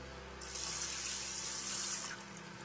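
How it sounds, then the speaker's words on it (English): Water pours steadily from a tap into a pot of two cups of rice for a rice cooker, a bright continuous splashing stream lasting about a second and a half, quiet and alone. "there's 2 cups of rice in here that we're gonna add 2 cups and a half of water"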